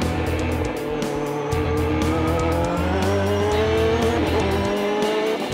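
Subaru BRZ GT300 race car lapping Okayama International Circuit during Super GT qualifying, its engine screaming steadily and loudly with rising and falling pitch through gear changes, other race cars audible around it.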